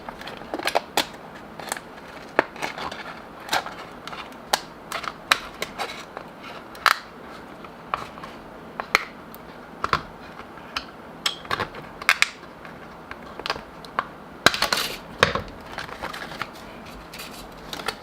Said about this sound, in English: So I think I'm gonna go ahead and cut his ear off.